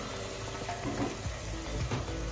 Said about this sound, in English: we're going to continue frying our yamarita, the yam.